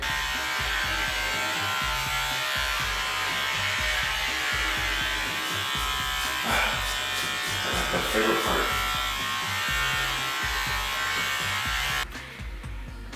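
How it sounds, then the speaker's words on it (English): A steady, close Philips Norelco electric shaver buzz runs throughout as it trims hair around the ears, with a voice speaking briefly over it before it cuts off near the end. "Final step, Philips Norelco shaver. I just use this to trim up the bottom and around his ears"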